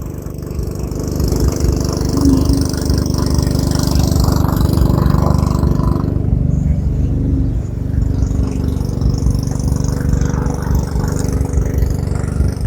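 Motorized fishing boat engine chugging steadily and loudly at close range, a continuous low drone that holds for the whole stretch with no talking.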